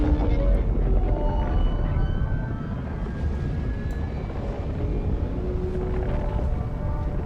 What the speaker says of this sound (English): it could just be warp engines engaged in general